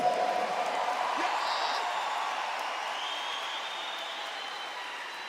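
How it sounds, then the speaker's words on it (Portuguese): An audience at a religious camp applauds, a broad sustained wash of clapping that gradually fades while staying fairly steady throughout. "Pode aplaudir, pode aplaudir,"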